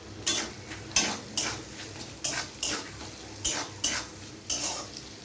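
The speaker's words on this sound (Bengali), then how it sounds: "এবার এই তেলের মধ্যে আমি কেটে রাখা কুচনো পেঁয়াজগুলোকে দিয়ে দিলাম" Chopped onions with salt fry in oil for a duck egg curry, as a sizzle runs under sharp, regular spatula scrapes against the pan, about one stroke each second.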